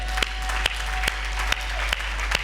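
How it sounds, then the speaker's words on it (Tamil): Congregation at a Christmas church service clapping in response to the preacher's call, a steady broad wash of applause with a few sharper louder claps standing out at regular intervals, fairly close and continuous. "கைதட்டுங்க பார்க்கலாம்"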